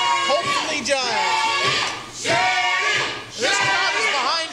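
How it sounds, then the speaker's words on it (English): A wrestling crowd cheers and shouts in surging waves during a three-way match, loud chants rising and falling in roughly one-second bursts, with commentators talking over them. "This crowd is behind Chris Shady."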